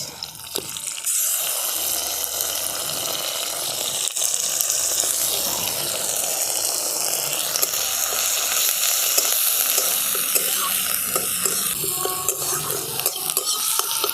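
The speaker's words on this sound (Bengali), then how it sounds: "এরপর দিয়ে দিচ্ছি বেটে রাখা পেঁয়াজ" Onion paste sizzles loudly in hot oil after a spice tempering for a fish curry, a dense, continuous frying hiss with steady stirring all the way through.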